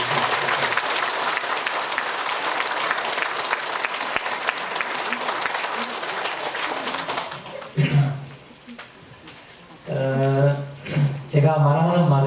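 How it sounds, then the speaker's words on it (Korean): Audience applause for Buddhist monks at a Korean dharma talk, a dense sustained clapping for several seconds that fades out, followed by a speaker's voice resuming. "우리 큰 스님이랑 우리 중무 스님한테 감사하는 마음으로 박수"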